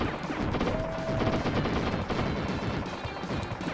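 Rapid gunfire from the Wild Guns Reloaded final boss fight, a dense, continuous barrage of overlapping shots and impacts with a brief high whine, loud and unbroken throughout.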